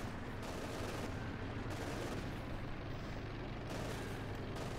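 Machine gun fire in Company of Heroes 2, a real-time strategy battle between OKW and USF armies: dense, sustained gunfire and battlefield rumble, loud and unbroken throughout with no voices.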